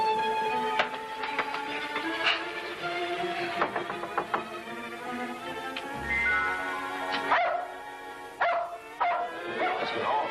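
A dog barks and yips repeatedly in short bursts, some sharp and some whiny, fairly close, with mechanical whirring sounds in between.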